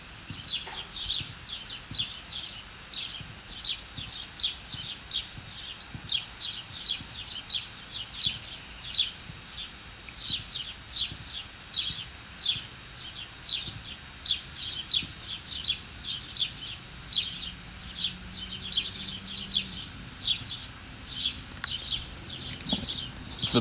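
Birds chirp and sing steadily outdoors at sunset in Arizona, a dense run of rapid, repeated high tweets continuing throughout at moderate distance, with faint low rumbling background.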